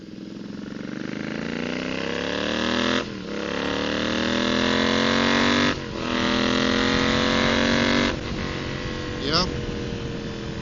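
A Royal Enfield motorcycle fitted with a DNA Performance air filter pulls hard while being ridden, engine note rising in pitch through several gears with brief dips at each shift, loud and close over wind noise.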